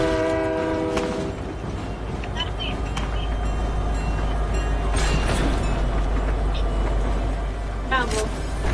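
Train in the video game Fortnite with its horn: a long sustained horn blast opens over a rumbling rolling train that continues throughout, loud and close, with game effects and a short voice at the end.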